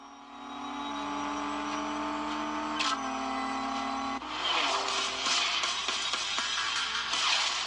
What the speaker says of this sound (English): you are just drag racing the car, so you don't actually steer the car. You operate the gas, you shift